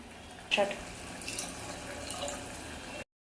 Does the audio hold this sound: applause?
no